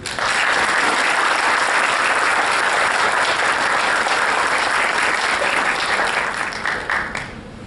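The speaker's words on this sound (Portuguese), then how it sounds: "pedindo uma salva de palmas para ele" Dense, sustained applause at a public prosecutors' congress ceremony, loud and even for several seconds before it thins out near the end.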